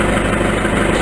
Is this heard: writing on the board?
no